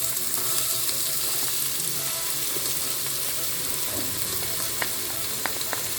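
Onions and garlic sizzling in a Cookeo multicooker, a steady close broadband frying hiss with a few faint clicks near the end, no voices.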